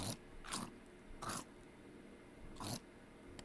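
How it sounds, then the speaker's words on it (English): Three quiet chomping bites in LittleBigPlanet 3, each a short crunchy burst spaced irregularly, followed by a faint tail at the end, with no talking. "it's just like a chomp, either in human body or human box"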